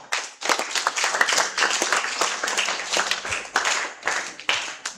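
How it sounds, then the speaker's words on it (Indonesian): An audience applauds a guest speaker at a health polytechnic student orientation in Palembang. The clapping is steady and fairly loud, with many hands, and continues for the full five seconds with slight swells. "Kita beri aplaus dulu kepada narasumber."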